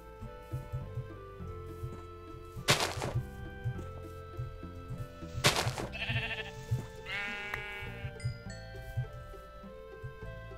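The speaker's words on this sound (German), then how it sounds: "Schaf." Sheep bleating in the Minecraft video game, two short wavering bleats several seconds apart over soft background game music and light clicks, fairly faint overall.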